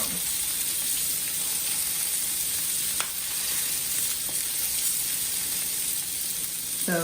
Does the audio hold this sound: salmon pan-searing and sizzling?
yes